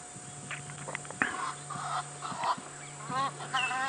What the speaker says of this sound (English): The Egyptian geese flying overhead.